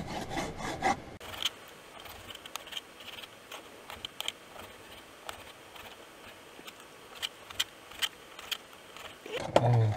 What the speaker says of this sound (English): And dice it.